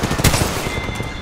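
Apex Legends gunfire crackles in a quick, loud burst of rapid shots, close and dense, filling the short moment with sharp repeated cracks.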